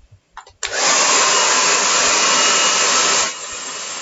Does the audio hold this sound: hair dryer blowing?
yes